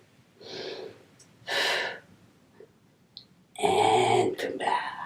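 Deep, audible breaths during a yoga exercise, with a long inhale and exhale followed by a louder, fuller breath, close to the microphone and with no talking.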